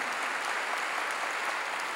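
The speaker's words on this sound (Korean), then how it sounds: "박수로 하나님께요" Applause from a church congregation during a Korean sermon, a dense, steady clapping wash that fills the whole stretch without letup.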